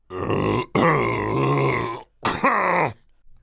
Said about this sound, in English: Oh, sorry, I had got to clear my throat.